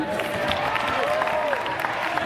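Cheering and applause from the crowd at a women's college basketball game between Saint Martin's and Central Washington, a steady roar of voices and clapping with some talk mixed in throughout.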